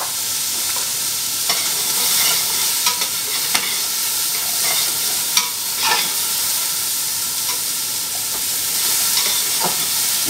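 Veal pieces roast in a hot pan for ossobuco with a loud, constant sizzle and intermittent clicks and scrapes of stirring. The sound is close and continuous, with no voices.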